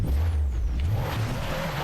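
Overheating, smoking car engine in an off-road downhill driving video game, running steadily with a loud, close low drone and rising revs, no talking.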